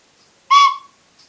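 A single short breathy whistle-like tone from a zambona, a wind instrument blown like a recorder, rising sharply and fading within about a third of a second, clear and close against silence.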